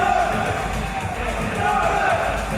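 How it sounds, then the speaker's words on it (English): A wrestling crowd at a live WrestleGate show cheers and roars in a steady, loud wash of many voices throughout, with no single speaker standing out. "the audience has already made up their mind who it is that they're going to cheer for tonight"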